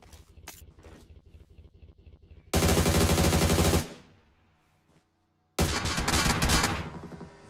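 Automatic gunfire from a PUBG Mobile esports tournament match comes in two loud, dense bursts of rapid shots after a lighter stretch of clicks and shots. Between the bursts there is a short silent gap.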